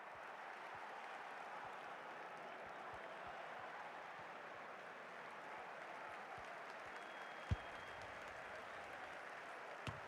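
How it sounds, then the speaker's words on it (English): Steady roar of a stadium crowd in an FC Mobile football video game, a continuous broad wash of cheering and applause with a few faint thuds, no commentary over it. "just listen to this crowd"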